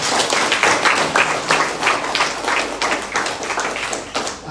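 Crowd clapping at a party school opening ceremony in Merauke, a dense burst of hand claps with pulsing rhythm, fairly close and loud, lasting a few seconds.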